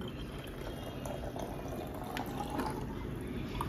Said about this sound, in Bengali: একদিকে ভরছি জল